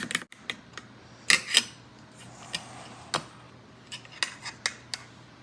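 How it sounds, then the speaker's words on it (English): Wet ingredients being mixed for baking, heard as irregular sharp clinks and taps of a utensil against a bowl, close and clear over a quiet room. "we're just gonna mix all of our wet ingredients"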